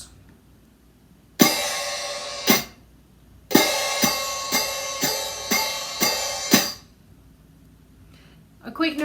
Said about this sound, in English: What you heard was the sound of cymbals in a kind of in a drum kit